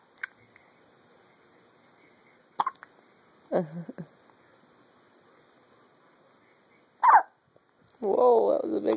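A baby hiccups several times, small sharp hitches spaced a second or more apart in a quiet room, followed by an adult's voice at the end.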